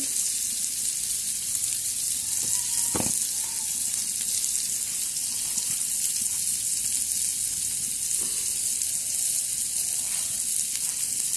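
Brinjal (eggplant) slices sizzle steadily in hot oil, a continuous hiss with occasional faint clinks, with no talk over the sound.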